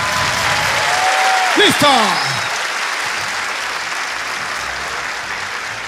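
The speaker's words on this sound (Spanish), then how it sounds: "Fuerte aplauso" Steady audience applause fills a comedy show stage, with a host's voice briefly speaking over it near the start before the clapping continues on its own.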